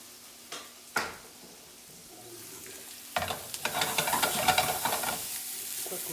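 Onions sautéed in a heavy tablespoon of olive oil over medium-high heat: a couple of knocks at first, then a rising crackling sizzle with scraping stirs, close and steady, with no voices.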